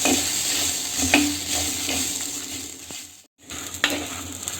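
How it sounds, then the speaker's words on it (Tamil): Onion, garlic and coriander seeds sautéing in a pan for chutney, with a steady close sizzle and occasional scraping stirs of a utensil, a brief dropout near the end, no speech. "இது எல்லாத்தையுமே நல்லா சேர்த்து நல்லா வதக்க போகிறோம் ஒரு மூணு நிமிஷத்துக்கு வந்து நல்லா வதங்கட்டும்"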